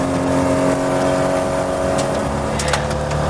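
A car engine revs hard and holds high revs during a chase, a loud, sustained drone close by with a few sharp higher bursts near the end.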